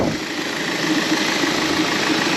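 A Volkswagen Passat B5 petrol engine idles steadily close by, a smooth continuous hum with faint mechanical ticking and no voices.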